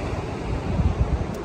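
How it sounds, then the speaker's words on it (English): Ocean surf at Gamble Rogers State Park on the Florida coast, a steady broad wash of waves with low rumbling swells and some wind buffeting the microphone, heard alone without voices. "you hear this ocean water all night"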